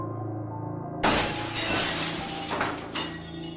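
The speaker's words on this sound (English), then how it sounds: "a tiny divot in the glass split up suddenly into a spider web of fractures." A car's side window glass suddenly cracks and shatters after a second of quiet, a sharp loud burst followed by tinkling, crackling fractures that flare again toward the end.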